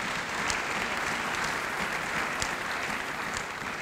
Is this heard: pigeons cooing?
no